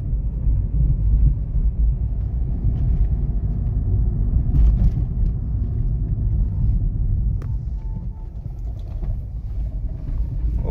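A 2016 Hyundai Elite i20 Active 1.2 S petrol hatchback braking while driving, heard from inside as a steady low road and engine rumble with small clicks and rattles, no talking.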